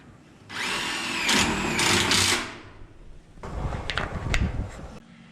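Power drill driving screws into a Colorbond steel fence, two separate whirring bursts of a few seconds each, close and loud, with a short quieter gap between them.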